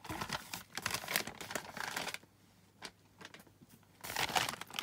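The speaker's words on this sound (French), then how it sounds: "Je mets dans l'enveloppe." A gift pouch slides into a paper envelope with close crinkling and rustling, loud paper handling in bursts broken by a quieter pause.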